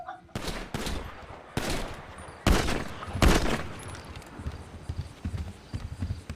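Several loud, sharp gunshots from GTA 5 fire in separated bursts, with quieter clattering and rustling between them and no talking.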